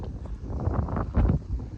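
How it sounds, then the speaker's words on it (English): Steady wind buffeting the microphone, a low rumbling gusty roar that swells briefly near the end, with no voices. "it's been windy and cold like this all day"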